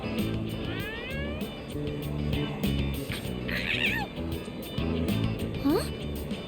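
A cat meows in the video game Persona 3 Reload, short mews rising over constant game music and sound effects, with game voices speaking.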